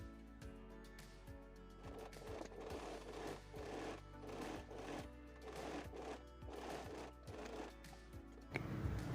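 A sewing machine runs steady bursts of rapid stitching through a denim seam on a crop top made from jeans, the even mechanical rattle pausing briefly between runs, close and fairly quiet.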